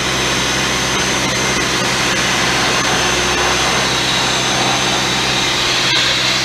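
Abrasive sandblasting on a Peterbilt 352 cabover truck frame produces a loud, constant, broadband hiss and rush that continues unbroken throughout.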